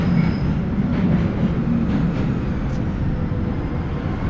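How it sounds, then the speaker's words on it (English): A Boston Green Line subway train rumbles steadily beneath a street vent near King's Chapel, a loud continuous roar of wheels and rail noise with faint clatter and no voices. "There's a subway train going through."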